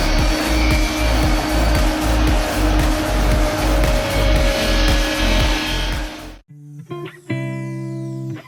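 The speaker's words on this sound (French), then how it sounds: "Cette machine incroyable traite le bois comme si elle était en train de dérouler un rouleau de tissu" An industrial machine peels wood into a thin sheet like unrolling fabric, producing a loud continuous rumbling drone with rhythmic pulsing that cuts off abruptly near the end, leaving a quieter tonal hum and clatter.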